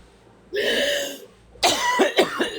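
A person coughs to clear something stuck in the lungs: two loud, close, harsh coughing bursts, the second breaking into several quick rasping hacks.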